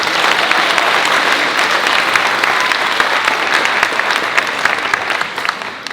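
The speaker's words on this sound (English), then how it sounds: "So let's have a big round of applause for all the students here." A large audience at a 2024 State of the Schools evening program applauds the students, dense continuous clapping filling the room steadily for about six seconds, loud and close, with no voices standing out.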